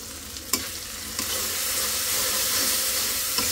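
Leafy greens curry with turmeric, ginger paste and dried chili powder frying in a pan, a steady close sizzle with a sharp clatter near the start and a few light knocks as it cooks.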